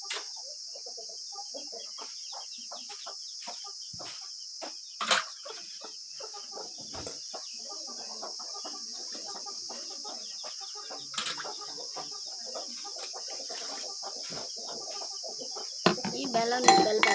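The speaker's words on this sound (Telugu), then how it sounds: "ఇప్పుడు కోడి పిల్లలు పెడుతున్నాను" Hens and their chicks cluck and peep softly nearby over a steady high hiss, with occasional louder flutters and a brief burst of activity at the end.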